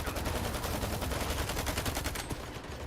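A full magazine emptied in S.T.A.L.K.E.R. 2, a rapid, continuous burst of automatic gunfire with evenly spaced shots, loud and close, stopping abruptly near the end.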